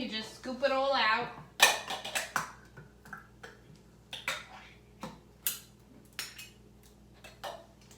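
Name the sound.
scooping the contents out of a can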